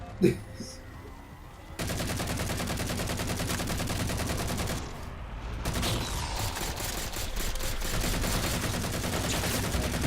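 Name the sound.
gunfire in the video game Halo 4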